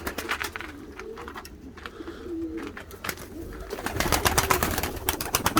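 Yarım dünya ornamental pigeons coo softly in repeated low calls, mixed with rustling and short clattering knocks that grow louder toward the end.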